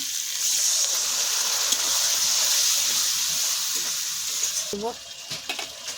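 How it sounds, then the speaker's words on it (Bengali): Ground spices, coriander powder, garam masala, chopped tomato and salt fry in oil in a pan for a jackfruit chicken curry, a loud steady sizzle that thins near the end as stirring clatters and scrapes briefly. "ভালো করে মশলাটা আমি কষে নেব"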